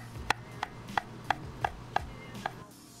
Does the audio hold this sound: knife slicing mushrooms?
yes